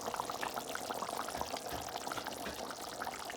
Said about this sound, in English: Beef curry is bubbling away.